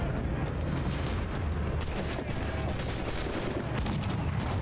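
Gunfire in the pirate-ship game Assassin's Creed 4 Black Flag, several loud shots and booms cracking over a dense, continuous battle din, with no talking.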